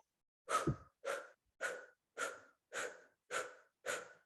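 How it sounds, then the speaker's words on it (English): Seven quick, forceful exhales through the mouth as a breathing exercise, evenly spaced about half a second apart, close and clear with silence between them. "So more quicker, or even just exhales through the mouth."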